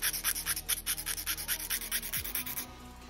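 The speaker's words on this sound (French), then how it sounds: "Donc là ça lime comme ceci, comme ça lime les deux ailettes en même temps" A nail file rasps rapidly back and forth under acrylic butterfly nail extensions, making a close, steady rhythmic scratching that stops near the end, with no talking.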